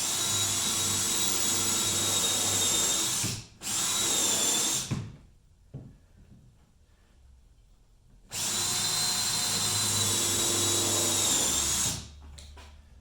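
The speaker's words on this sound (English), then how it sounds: "I'll go behind and I'll drill, deepen the holes into the receiving part, like so." Power drill deepening holes in birch plywood parts of a trap-top micro camper, two long loud whirring bursts separated by a brief break, a quiet pause, then another sustained run.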